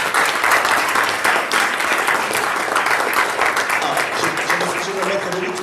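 An audience at a public debate on housing breaks into sustained, loud applause that fills the room and fades slightly toward the end, with some crowd noise mixed in.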